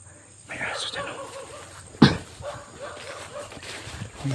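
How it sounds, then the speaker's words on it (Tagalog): Dog sounds from outdoors in the Philippines, a sharp single bark or yelp near the middle amid scattered whimpers and yips, with someone talking over much of it. "May aso dyan o."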